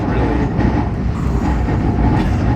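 A train in Taiwan runs along the rails with a steady, loud rumble and a faint clickety-clack, close and continuous, with no voices.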